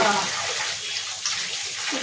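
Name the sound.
running water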